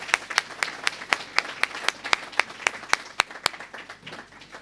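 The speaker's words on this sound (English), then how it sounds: "So if we could give him one more round of applause." An audience at a medical school white coat ceremony applauds its keynote speaker, with steady clapping spread across the room and a few sharp individual claps standing out. The applause holds at an even level, then thins slightly toward the end.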